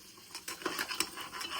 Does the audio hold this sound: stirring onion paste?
yes